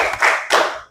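Two sharp hand claps land about a third of a second apart, close and loud, as part of a children's thumb-clapping game.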